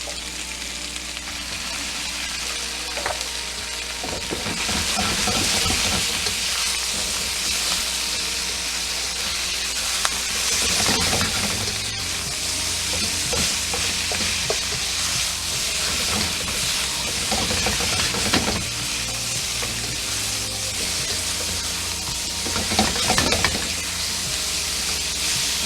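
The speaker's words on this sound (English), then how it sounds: "I'm going to constantly stir it and stir fry it." Pepper steak stir-fries in a hot pan, giving a loud continuous sizzle and hiss with repeated scraping and tossing noises from constant stirring.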